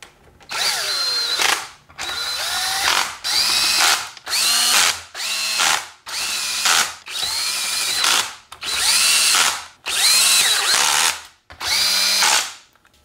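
A power tool drives bolts on a Tremec TKO five-speed transmission in about nine separate bursts, each a loud whining spin of a second or so with short gaps between, up close and without talk.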